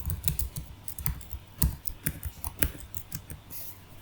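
Fingers type an email address on a computer keyboard, a quick irregular run of light clicking keystrokes with brief pauses, close and moderately quiet, with no talking.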